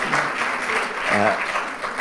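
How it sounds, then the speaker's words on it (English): Audience applause at a live interactive business session, a steady wash of clapping from a crowd lasting about two seconds, with a voice briefly audible over it. "You need to clap for yourself because you're in the elite"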